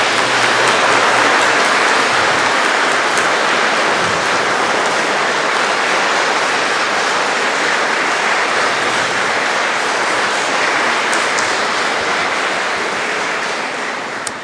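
Congregation in a church at Mass applauding, a dense, steady wash of many hands clapping, loud and sustained throughout before easing slightly at the end.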